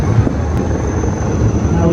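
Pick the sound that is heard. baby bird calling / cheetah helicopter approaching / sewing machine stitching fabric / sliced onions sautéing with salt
cheetah helicopter approaching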